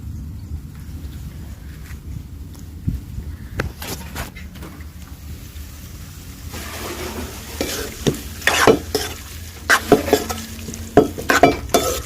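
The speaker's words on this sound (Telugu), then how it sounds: "కడిగి పెట్టుకున్న చికెన్ అయితే వేసేసుకుంటున్నాను దీంట్లో ఉప్పు కారం పసుపు అన్నీ వేసేస్తున్నాను" Chicken sizzles in a pan with salt, chili and turmeric, a utensil scraping and clinking as it is stirred in irregular bursts, close and clear over soft steady frying.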